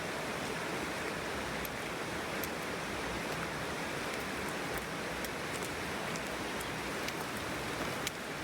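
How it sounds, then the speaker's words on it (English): Steady rain falls on hikers camped in the Bob Marshall wilderness, an even, dense patter with occasional sharper drop ticks, close and continuous throughout with no voices. "it's starting to rain on us"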